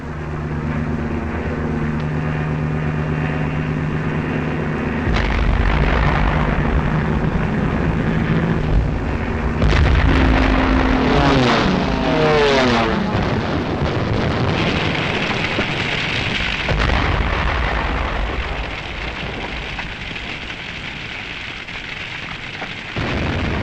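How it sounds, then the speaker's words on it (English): Archival wartime sound of the aerial bombing of Rotterdam: loud, continuous rumbling blasts and roaring aircraft noise that swell and fade across the span, with a sharper burst cluster midway. "This was Rotterdam, bombed after the Dutch forces had surrendered."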